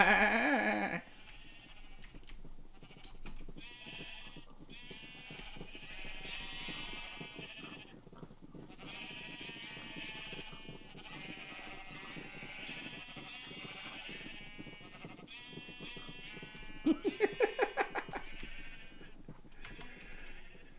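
Minecraft sheep bleat over and over in a steady, wavering chorus with a game-like tone, one louder bleat standing out near the end.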